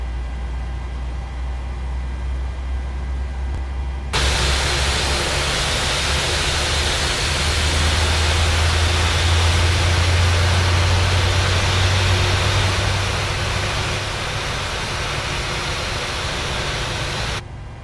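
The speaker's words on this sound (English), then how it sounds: "we're going to wait for that other engine to come up now" A simulated jet engine spools up in Microsoft Flight Simulator 2020. A steady roar jumps louder after a few seconds, then holds as a dense, even rush with a low hum that slowly climbs, with no talk.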